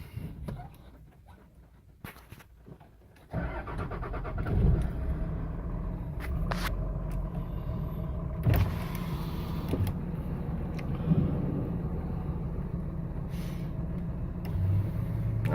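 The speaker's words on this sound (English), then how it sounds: "I do love hearing my truck run." A 2006 Dodge Ram 3500 with the 5.9 Cummins diesel cranks briefly, then fires up and settles into a steady, close, low rumbling idle that continues to the end.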